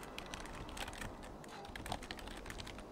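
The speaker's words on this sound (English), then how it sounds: "typing what I'm doing" Fingers type quickly on a computer keyboard, a dense run of soft, close key clicks continuing without pause.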